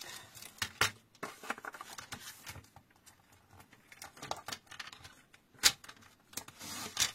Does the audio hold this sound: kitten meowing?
no